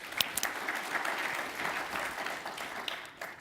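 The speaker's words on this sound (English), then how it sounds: "Let's give them a warm round of applause," Audience applause welcomes speakers at a talk on counter-terrorist financing: dense, steady clapping from a crowd that fills the whole stretch at an even level and carries on without a break.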